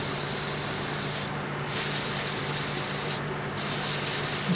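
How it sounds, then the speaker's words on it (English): Sanding the bearing edge of a wooden stave drum shell spinning on a lathe, a steady close hiss of abrasive rubbing, broken twice by brief lifts of the paper. "Just a bit of sanding to get the edge nice."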